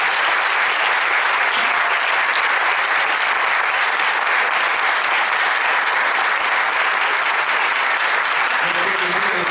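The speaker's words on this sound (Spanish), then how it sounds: "Yo propongo un aplauso de gratitud" An audience at a lecture hall conference breaks into loud, sustained applause, a dense even wash of clapping that holds steady throughout.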